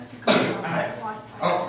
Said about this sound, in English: Sounds like this is like a medical ward. Somebody's sick, coughing.